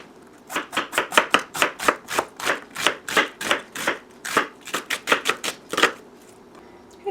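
Rapid knife chopping of vegetables on a cutting board during home weekly food prep, about two dozen sharp, evenly spaced close strikes in a steady rhythm, nothing else heard.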